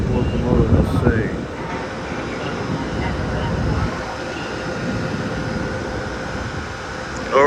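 An electric locomotive-hauled train at Budapest-Kelenföld station, a continuous rumbling, rolling roar with faint squeals, steady and fairly close throughout, with voices in the background.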